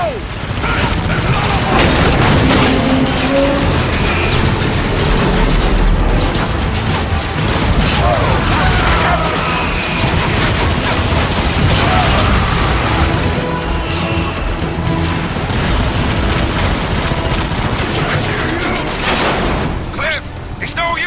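Heavy combat in Transformers: Fall of Cybertron with rocket blasts and booming explosions, loud and continuous, mixed with gunfire and a dense game soundtrack throughout.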